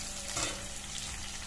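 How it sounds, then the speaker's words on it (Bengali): Onions frying in a pan with spices for a masala fish dish, giving a dense, steady sizzle up close with a faint stir scrape early on, alone without voices. "এর সাথে আমি পেঁয়াজ ঢেলে দিলাম"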